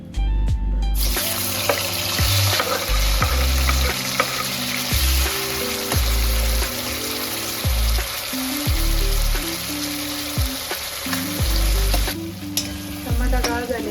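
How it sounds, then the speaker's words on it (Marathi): Tomato fries in oil in a hot wok for palak paneer, a continuous sizzle beneath repeated scraping and knocking of a spoon stirring the pan, with faint background music. "टमाटा गाळ झालेला आहे तेलामध्ये."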